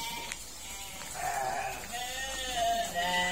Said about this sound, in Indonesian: Kita ikuti teman-teman, anak kandang bedus merah yang akan memandikan domba